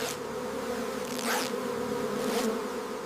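Bees swarm around a hive during honey harvesting, a dense steady buzz close by with individual insects swelling louder as they pass near.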